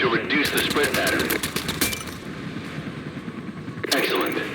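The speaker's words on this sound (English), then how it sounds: "Use your rotary cannon to destroy the enemy. At longer ranges, fire in bursts to reduce the spread pattern." A Comanche helicopter's rotary cannon fires in rapid bursts, one long rattling burst up front and a shorter one near the end, over a steady engine drone. Talk runs through part of it.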